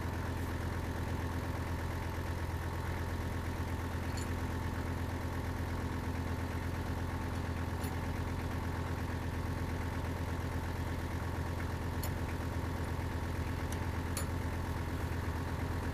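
A tractor engine idles steadily, a constant low rumbling drone with faint mechanical ticking on top, no voices.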